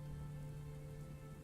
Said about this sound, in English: The sound of the rain falling is frankly almost like therapeutic.